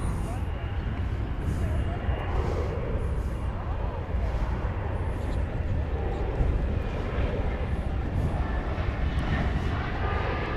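Jet airplane turning slowly while taxiing at DFW Airport, a steady broad engine roar with low rumble throughout, with people talking over it.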